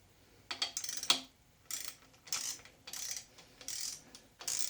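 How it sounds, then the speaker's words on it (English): A 1/2-inch torque wrench ratchets while tightening main bearing caps on a 1970-71 small-block Chevy 350 during crankshaft installation, giving close, repeated bursts of metallic clicking separated by short pauses. "Now, take my 1/2-inch torque wrench."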